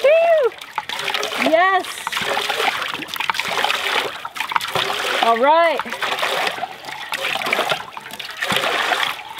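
Water from a pumped pipe splashes and gushes steadily at an off-grid remote property, with a cheerful voice talking over it and brief whoops rising above the continuous rush.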